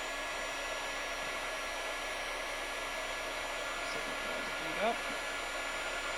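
Embossing heat tool on an embossing station blowing hot air, a steady continuous fan-like roar at even volume throughout, with a brief spoken word partway through.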